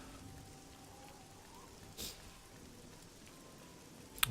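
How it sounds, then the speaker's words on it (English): Steady, soft rainfall in the video game Oblivion makes a faint, even hiss throughout, with one brief louder gust of noise midway and a small sharp tick at the very end. "Wish this rain would bugger off."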